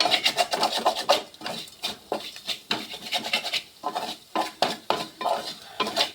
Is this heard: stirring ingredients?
yes